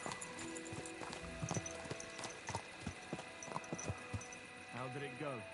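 Horse hooves clip-clop in a medieval video game, steady walking beats under faint game ambience, with a voice talking partway through and a horse whinny near the end.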